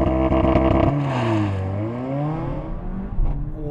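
A Mercedes-AMG A45 S launches from a race start, the engine first holding a loud, pulsing revved idle, then surging into a rising, shifting acceleration wail that swells through the gears with a short break near the end.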